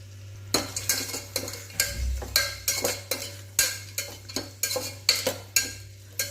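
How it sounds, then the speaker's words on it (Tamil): Onions sauté in oil with whole spices for vegetable biryani, a utensil scraping and clanking against the pan in a regular rhythm, roughly twice a second, over a soft sizzle. "வெங்காயமெல்லாம் நல்லா பொன்னிறமாக வர வரைக்கும் நல்லா வதக்கிக்கலாம்"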